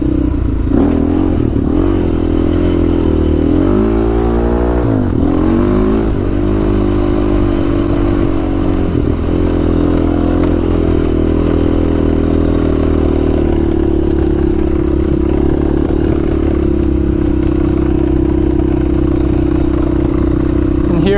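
A Honda 400ex quad fitted with Stage 2 Hotcams, engine running loud and close throughout, with a brief rev rise and fall early on before it settles into a rough, steady drone with some clatter.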